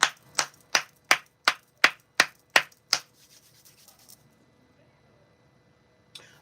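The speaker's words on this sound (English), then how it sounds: "Let me clap real quick to clear the energy." Hands clap nine times in a quick, even rhythm, each clap sharp and close, then the room falls quiet apart from faint rustling and one more soft tap at the end.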